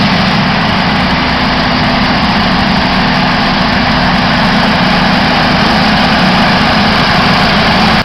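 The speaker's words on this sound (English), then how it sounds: "Listen to those engines roar" Heavy engines of oversized heavy-haul trucks drone loudly and continuously, a thick rumbling roar that holds steady throughout with no pauses.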